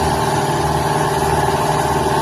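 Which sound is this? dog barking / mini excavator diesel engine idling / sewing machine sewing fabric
mini excavator diesel engine idling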